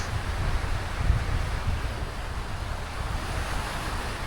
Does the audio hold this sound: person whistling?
no